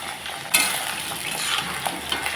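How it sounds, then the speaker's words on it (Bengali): Potatoes fry with cumin seeds in hot oil, a close, loud continuous sizzle that flares at the start, with scraping stirs and utensil clinks. "জিরা ফোড়ন, আলু, আলুটাকে লাল লাল করে ভেজে নেব"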